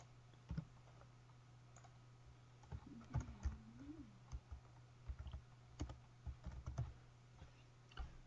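Close, quiet typing on a computer keyboard, irregular key clicks arriving in short bursts and single taps against a faint steady hum, with no talking.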